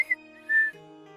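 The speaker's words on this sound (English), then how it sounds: "Elle turns back to her birds and whistles softly" Soft whistling aimed at pet birds, a few short airy tones followed by a brief held note that drops to a lower pitch, close and gentle.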